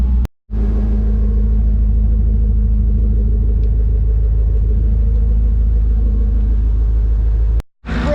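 An LS-swapped Hyundai Genesis idles steadily after a cold start, its V8 rumble close and loud with a low, even drone; the engine note cuts out briefly at the start and again near the end.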